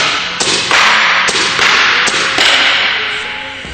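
Shots from a Lapco snapshot barrel of about 14 inches, fired at a 50-foot target on a range: four or five sharp, loud cracks in quick succession, each with a short bright tail, with no talk.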